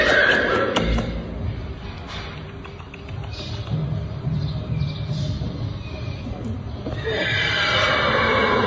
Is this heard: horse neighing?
yes